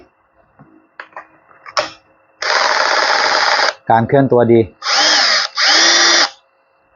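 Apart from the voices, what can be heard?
power drill drilling into concrete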